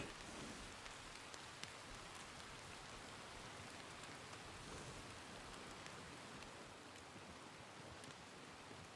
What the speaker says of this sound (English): This rain might go away soon enough, hopefully.